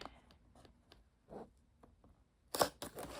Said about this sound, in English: I take my little switchblade cutter thingy here and I just cut